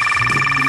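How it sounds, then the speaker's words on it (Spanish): A telephone rings in a steady electronic trill, loud and close, with a faint voice murmuring underneath during a domestic scene. "¿El teléfono? ¡Ah! ¡Es tu teléfono!"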